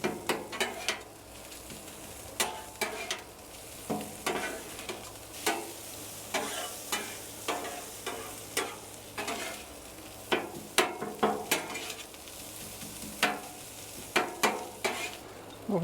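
Chorizo sizzles on a Blackstone griddle with a steady frying hiss, punctuated by repeated sharp metallic scrapes and taps of a spatula in an uneven rhythm, close up.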